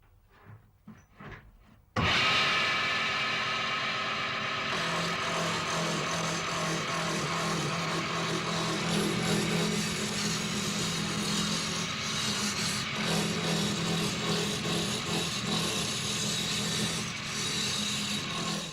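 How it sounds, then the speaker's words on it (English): A large half-round gouge rough-turns a length of timber on a lathe into a cylinder for an Irish spinning wheel, giving a steady, loud, rasping shear that starts abruptly after brief quiet and runs on unbroken. "A large half-round gouge is used for the rough turning, removing the surplus wood and turning the piece into a cylinder."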